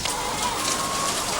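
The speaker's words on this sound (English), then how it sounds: "Thousands of cages, tens of thousands of birds, all in one shed." A dense mass of battery hens in tens of thousands of wire cages inside one enclosed shed, producing a continuous, steady din of clucking and chatter with no pauses and no human voices.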